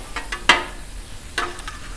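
Shrimp sizzle steadily on a hot Blackstone griddle, a soft frying hiss broken by a few sharp scraping stirs and clacks of a utensil against the flat metal top.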